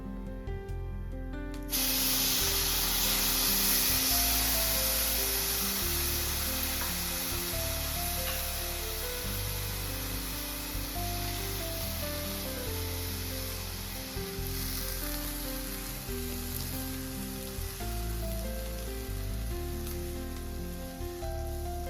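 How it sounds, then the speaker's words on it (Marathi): Milk poured into semolina and grated coconut roasting in a pan sets off a loud, steady sizzle and hiss that keeps going under background music, with no talking. "आपण आता त्याच्यात दूध टाकूया."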